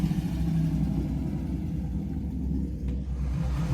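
A car drives away after an alternator bracket repair at a Deuce Days hot rod event, a steady close rumbling engine with a slight rise in revs throughout.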